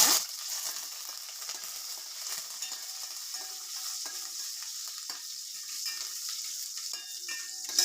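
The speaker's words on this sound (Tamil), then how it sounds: "இப்போ நான் ஒரு 10 பல்லு பூண்டு தட்டி வச்சுருக்கேன், அதை சேர்த்துக்கிறேன்." Crushed garlic and curry leaves frying in a mustard tempering for karuvattu kuzhambu, a steady close sizzle and crackle of hot oil with light stirring scrapes throughout, no voices.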